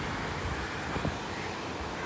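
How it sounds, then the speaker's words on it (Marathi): Heavy rain pours down steadily outdoors in Lamjana, Latur, a dense, even hiss of falling water filling the whole clip with no pauses or voices. "खूप मोठा पाऊस चालू आहे."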